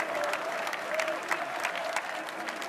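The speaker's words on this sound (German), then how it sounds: "da gibt es jetzt noch mal einen riesen Applaus für die Petra" A studio audience at a German Sunday television show claps in a full, steady round of applause for a guest, dense and continuous throughout.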